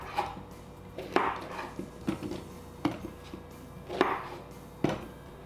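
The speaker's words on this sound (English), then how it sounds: "So I'm just going to, cut the veggies up." A knife chopping vegetables on a cutting board, about seven separate sharp chops spaced unevenly over a quiet kitchen background, close and without speech.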